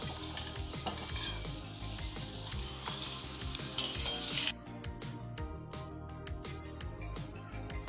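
Poornam boorelu, stuffed sweet dumplings, deep frying in hot oil, a steady close sizzle with light stirring scrapes, the bright hiss dropping noticeably quieter partway through as the frying settles.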